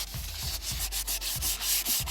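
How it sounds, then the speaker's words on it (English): Fine sandpaper of about 200 grit rubbing over fiberglass side skirts, with close back-and-forth sanding strokes in a steady rhythm. "Now this sandpaper, when you're done, will leave a very smooth finish, almost glossy."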